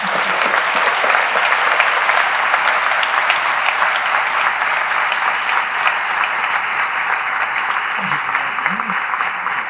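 A big audience claps for guests at a live talk event, with sustained, even applause that carries loud and unbroken, while a few brief voices surface near the end.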